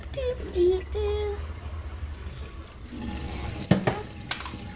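Tap water runs into a container being filled to the 12 mark, a steady splashing hiss throughout, with a couple of sharp knocks near the end and someone humming briefly at the start.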